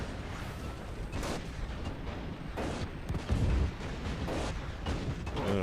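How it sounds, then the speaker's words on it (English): A tank blowing up in Warhammer 40,000: Eternal Crusade, amid repeated booming blasts and gunfire, with a heavier thump partway through and the combat continuing around it. "backing up because that tank's about to blow"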